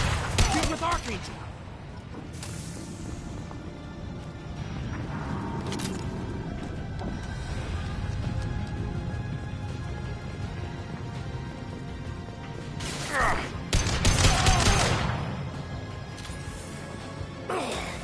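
Bursts of gunfire in the sci-fi shooter Mass Effect Legendary Edition crack out in volleys over a dense combat background, with characters shouting between shots.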